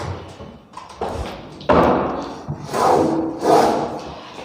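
A wooden almirah drawer in a semi-furnished flat is handled, giving a few close thumps and knocks with a sharp bang near the middle, then rumbling sliding noise as it moves.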